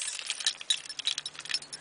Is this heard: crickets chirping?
no